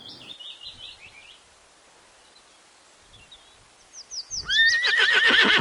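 After a quiet stretch with faint chirps, a horse lets out a loud, shrill whinny that wavers and trails off at the end.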